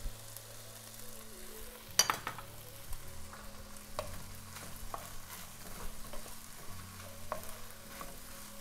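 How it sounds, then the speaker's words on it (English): Edamame, snow peas and scallions stir-fry for a coconut green curry fried rice, giving a soft steady sizzle broken by spatula scrapes and knocks against the pan, with one sharp clank early on. "And then I'm going to add in our edamame, our snow peas, and our scallions."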